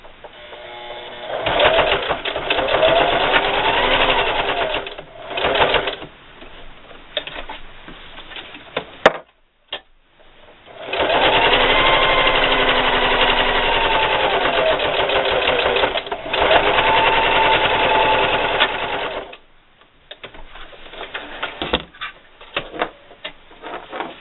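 A sewing machine stitches Velcro onto a patio umbrella strap, loud rapid mechanical clatter running in long bursts, with short pauses and backstitch breaks between runs.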